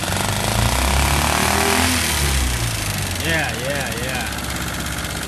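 A Honda 5 horsepower 4-cycle engine runs loudly and steadily close by, a continuous rough mechanical drone, while someone speaks over it in the second half.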